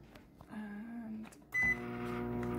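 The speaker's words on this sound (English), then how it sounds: "we're gonna have to microwave them for like 10 seconds" A microwave oven hums steadily while softening butter, then a short beep sounds and the door or keypad clicks as the hum continues, close and fairly quiet.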